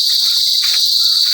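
Dense chorus of many crickets along a mountain hiking trail with kakawate and ipil trees, a steady, loud, continuous high-pitched trill filling the whole moment with no voices.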